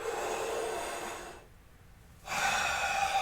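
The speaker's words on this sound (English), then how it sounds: "Now breathing in deeply again" A long, close airy breath during yoga practice, fading into a short quiet pause before a second deep breath begins, soft and unhurried with no voice.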